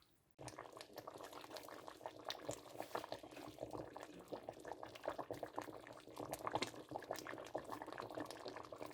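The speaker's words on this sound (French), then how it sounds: "on va laisser tranquillement cuire tout ça" A pork trotter civet stew simmering in a pot, giving a faint, continuous bubbling and soft popping that stays steady throughout after a brief quiet start.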